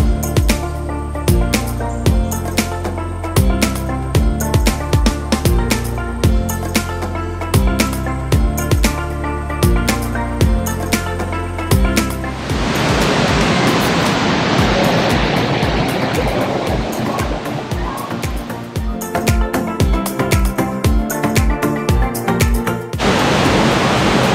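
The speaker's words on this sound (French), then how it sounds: "La cascade, c'est chaud là, c'est chaud, c'est super chaud, on est sous la cascade." Loud roaring rush of falling water close by, standing beneath Noccalula Falls on the Gorge Trail in Alabama, interrupted by bursts of rhythmic banging and thumping that come and go.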